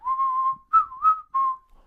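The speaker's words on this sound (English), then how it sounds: "Or the whistling." A clear, sustained whistled melody, the kind of whistling hook heard in a 1993 pop song, comes in a few bright phrases with short pauses between them and no voices over it.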